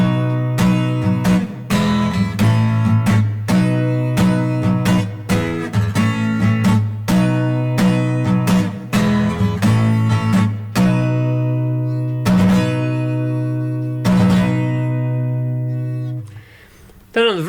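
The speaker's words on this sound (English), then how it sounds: "So those 4 chords will get you through the intro, and it would sound like this." Electric guitar strums the chugging intro chord pattern of a song, with repeated rhythmic strokes over a steady sustained bass tone and a final ringing chord that fades out, played alone and close.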